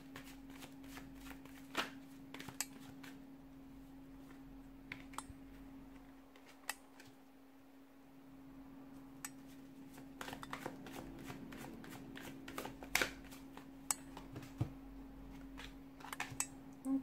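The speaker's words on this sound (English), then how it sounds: "give the cards a shuffle" Tarot cards shuffled by hand at close range, a quiet run of repeated riffling and soft snapping clicks over a low steady hum, without speech.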